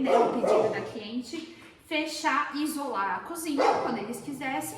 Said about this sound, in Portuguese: algumas vezes vocês vão ouvir ele latindo aí ao longo do vídeo